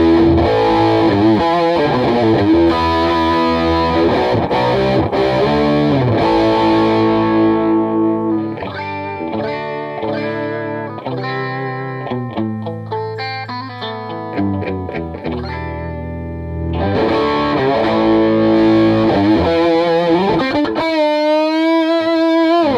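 Distorted electric guitar runs through an AmpliTube amp simulation with an external treble booster, playing loud sustained chords and melodic lines with thick saturation, then a ringing held note with wavering vibrato at the end.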